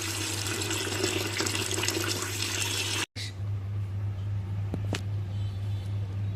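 Water pours over fresh ginger roots to soak them, a steady rushing splash for about three seconds, then it cuts off and a quieter background follows with a low hum and a few faint clicks.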